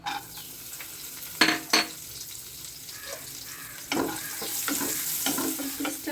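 Cashews and raisins fry lightly in oil, a soft steady sizzle punctuated by a few sharp clinks of a spoon against the pan and scraping stirs toward the end.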